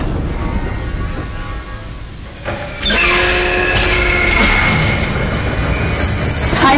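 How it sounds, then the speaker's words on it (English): A replacement tram car rolls in within the video game Dead Space, a mechanical hum and rattle that jumps louder midway into a sustained whirring, grinding machine drone. "Replacing damaged tram car."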